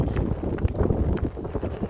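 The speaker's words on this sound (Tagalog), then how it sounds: "Mahangin na naman." Steady wind buffets the microphone, a continuous low rumbling roar with gusty fluctuations throughout.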